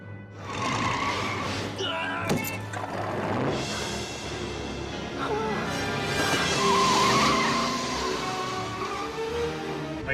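A DeLorean with a Volvo engine mounted in the back runs steadily and fairly loud for the whole stretch, its rumble mixed with road noise and a brief sharp squeal or clatter near the start, while people talk over it.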